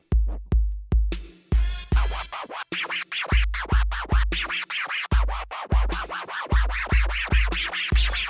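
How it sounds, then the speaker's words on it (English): A DJ scribble scratch on a vinyl record, rapid scribbling bursts layered over a repeating thumping beat, loud and close throughout. "And that's the Scribble Scratch, a really important technique"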